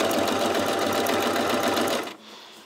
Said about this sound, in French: on refait des points avant, des points arrière